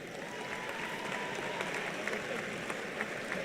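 Sustained applause from a crowd of fans in a college basketball gym honoring senior cheerleaders at a Hope vs. Alma men's game, a dense, steady wash of clapping at moderate level with occasional louder claps and faint crowd murmur, no talking.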